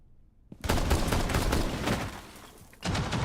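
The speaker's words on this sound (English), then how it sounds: "He probably shouldn't be aware of using the gunshot to mask your vault." Video game gunfire erupts after a brief quiet moment as a dense burst of shots lasting about two seconds, then eases off before a second loud burst begins near the end.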